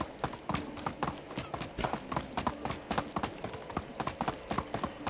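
Horse hooves clip-clopping at a fast galloping rhythm in the medieval life-sim game Medieval Dynasty, steady and fairly close, with no talk over them.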